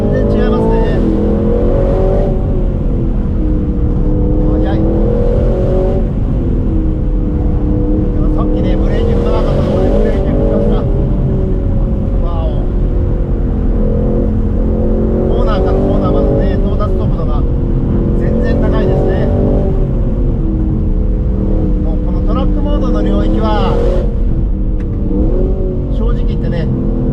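An Aston Martin Vantage Roadster drives a winding road. Its engine note is loud and continuous, rising and falling in pitch as it accelerates out of bends and eases off into them.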